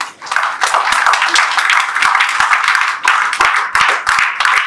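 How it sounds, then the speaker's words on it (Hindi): Loud, close applause from an audience at a motivational talk, with sharp individual claps standing out from the crowd, thinning briefly near the start and then returning strongly. "हाँ, एक जोरदार तालियां होनी चाहिए आप लोगों की।"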